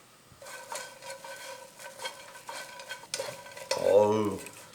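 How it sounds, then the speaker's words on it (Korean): Dried anchovies scraped and tossed around a dry pan over high heat with a spatula, rustling and crackling up close, louder near the end. "이런 마른 팬에다가 한번 싹 한 3분 정도 센 불에다 볶아주게 되면"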